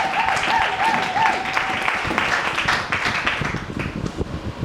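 A church congregation claps and cheers in a sustained, dense wash of applause that carries steadily throughout, with a voice rising briefly over it near the start.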